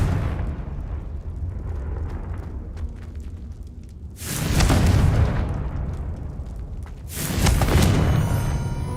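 Two Confringo spell blasts in Hogwarts Legacy inside a goblin mine, each a loud, booming fiery explosion with a rumbling tail, the first about midway and the second near the end, over a low ambient game background.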